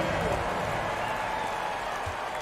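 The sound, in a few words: crowd applause for the Raptors in basketball video game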